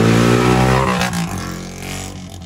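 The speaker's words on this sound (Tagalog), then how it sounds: "Ingay naman ang motor ni Kuya." A motorcycle engine revs loudly nearby with a steady droning tone, then drops off as the throttle eases and settles into a lower, fading idle-like hum.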